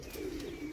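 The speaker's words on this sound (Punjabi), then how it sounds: "ਇਹ ਪ੍ਰਵਾਸੀ ਕਬੂਤਰ ਨੇ ਜਨਾਬ" Pigeons give a brief, low coo close by, one soft rolling call over a quiet background.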